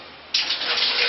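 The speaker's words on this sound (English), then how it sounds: "So I'm going to fill this wastebasket up with water." Tap water gushes steadily into a hotel bathroom wastebasket, starting abruptly and then running as a loud, continuous rush that fills the clip.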